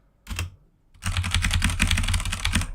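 A computer keyboard is typed on up close: a brief burst of clicks, a short pause, then a dense, rapid run of key clatter, loud and clear with no talk.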